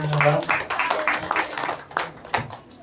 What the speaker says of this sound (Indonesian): Kasih tepuk tangan sekali lagi dong buat penyembah